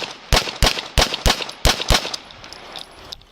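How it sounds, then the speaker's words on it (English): Six loud gunshots in quick succession, evenly spaced over about two seconds, captured on a recorded police emergency call, followed by a noisy lull with faint background sounds. "Shots fired, one down."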